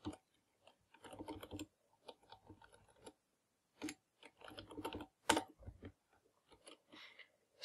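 Someone types a command on a computer keyboard in quick, irregular bursts of close key clicks with short pauses between them, alone and fairly quiet.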